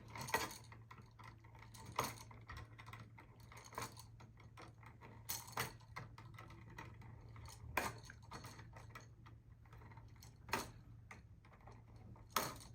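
Needle-nose pliers twisting TV wires together, a series of faint metallic clicks and ticks at irregular intervals over a low steady hum, close and with no talk.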